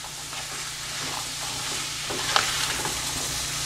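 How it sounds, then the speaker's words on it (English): Soya chunks Manchurian stirred in a pan over a slow flame with soy and tomato sauce, a steady close sizzle under repeated scraping and tossing strokes, one sharper clink near the middle, no voices. "In a slow flame, I'm going to mix it everything together."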